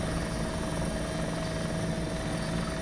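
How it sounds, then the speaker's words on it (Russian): Helicopter taking off during an airsoft military game at Tushino, a loud steady rotor and turbine roar with a constant whine, continuous and close throughout. "что первый вертолет начинает взлет"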